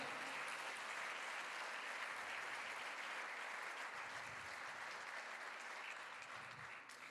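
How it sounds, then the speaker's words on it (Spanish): Church congregation applauding the Lord during a sermon, a full, continuous roar of clapping that holds steady and fades a little at the close. "Dele un aplauso al Señor."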